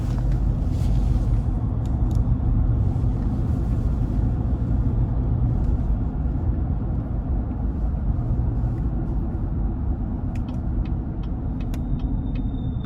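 A 2016 GMC Yukon with a 6.2 liter engine and 122,000 miles accelerates on the road, a steady loud low engine rumble with road noise throughout.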